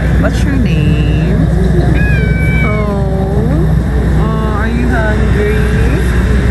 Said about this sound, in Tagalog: may lumapit sa ating pusa